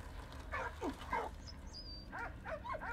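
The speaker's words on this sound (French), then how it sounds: "Le chien, il monte dans le panier, le doudou." Dog sounds from the video game Soldats Inconnus: a few short whimpers and yips in quick succession, fairly faint over a steady game background, with a brief high whistle-like tone in between.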